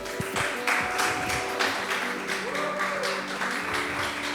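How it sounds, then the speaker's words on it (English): Audience at a hackathon kickoff event on a Berlin rooftop venue giving a round of applause, continuous moderate clapping with some background crowd chatter. "So may we have a round of applause for them,"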